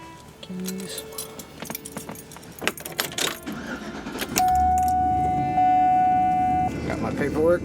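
Metal keys jingle and clink in a few quick bursts near a car, followed by an engine starting and a steady dashboard chime tone.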